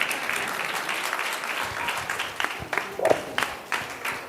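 Steady applause from an audience at a ceremony marking a birth anniversary and National Ayurveda event, continuous crowd clapping with a few louder claps rising near the end, heard alone.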